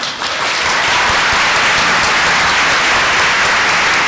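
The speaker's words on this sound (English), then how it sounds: "I hope you will give them a very warm round of applause." A loud, sustained round of applause from an audience honouring the award winners at a moot court competition final. Many hands clap in a thick, even roar that continues without a break.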